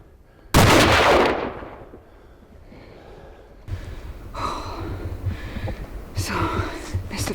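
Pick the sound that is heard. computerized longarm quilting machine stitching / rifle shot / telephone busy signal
rifle shot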